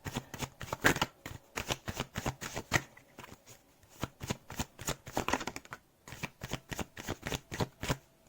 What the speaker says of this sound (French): Alors, attendez, on va rebrasser encore une fois.